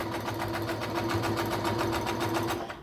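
Sewing machine running steadily while back stitching a pillow cover, a loud continuous whirring hum with rapid rhythmic needle ticks throughout, close up and alone.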